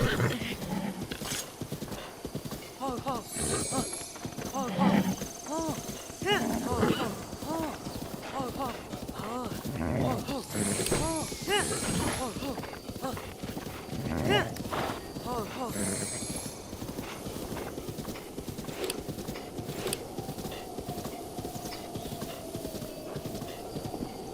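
Horse hooves clip-clopping in The Legend of Zelda: Breath of the Wild, a close, steady rhythmic gait running the whole stretch, mixed with occasional whinnies and voices talking over it.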